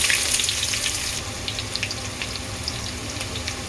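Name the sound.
onions frying in sunflower oil in a pan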